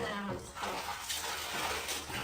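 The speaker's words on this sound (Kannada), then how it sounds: "ಅಲ್ಲೇ ಹಾಕು ನೀರು." Water splashes and pours into a tub for a baby's bath, a soft continuous trickle with faint splashes, quiet and close, with muffled voices in the background.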